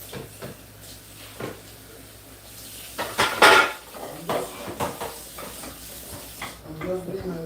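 Plates, dishes and cutlery being washed in a home kitchen: scattered clinks and knocks of crockery and metal utensils, water swishing, with a louder clatter midway and close, busy handling throughout.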